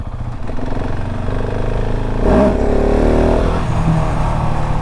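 KTM 690 SMC R supermoto single-cylinder engine revving hard for a wheelie, a close, loud rising roar that peaks and then settles back toward a lower drone.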